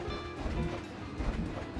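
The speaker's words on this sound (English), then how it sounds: "Wait for the train so we don't get hit like the engineer did." A train rolls past in a theme park video game, a steady rumbling clatter of wheels with faint rhythmic clicks that holds at an even level throughout, with no talk.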